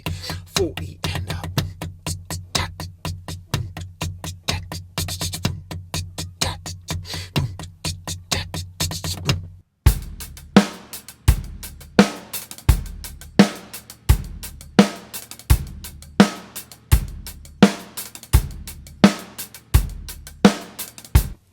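A drum groove with quick 32nd-note hi-hat bursts on the fourth beat plays as steady, punchy kick and snare hits under crisp hats. It stops briefly, then comes back with sparser, heavier hits.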